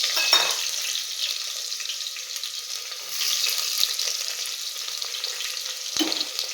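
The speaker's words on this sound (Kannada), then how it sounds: "ಈರುಳ್ಳಿ ಸ್ವಲ್ಪ ಫ್ರೈ ಆದರೆ ಸಾಕು, ತುಂಬ ಜಾಸ್ತಿ ಫ್ರೈ ಆಗೋ ಅವಶ್ಯಕತೆ ಇಲ್ಲ." Onions sizzle in a pan for okra sambar, a steady close frying hiss with occasional stirring clinks and scrapes, no voices.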